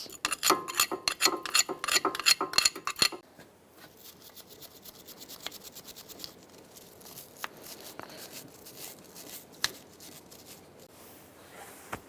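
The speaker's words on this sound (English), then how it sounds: "now we're going to scrape this down and clean up this area for the new clips" Scraping and cleaning around a Ford Taurus brake caliper area produces rapid, close metallic rasping strokes at first, followed by quieter intermittent scratches, clicks and rubbing.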